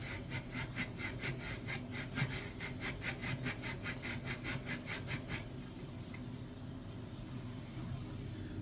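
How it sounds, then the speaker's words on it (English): A block of pecorino romano is rubbed against a box grater, making about twenty rhythmic rasping strokes, fairly close. The strokes stop halfway through and quiet background noise is left. "You just need to grate it away"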